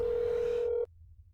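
Steady telephone dial tone in a video game, a single clear continuous pitch heard while calling an apartment, cutting off abruptly after under a second into near silence.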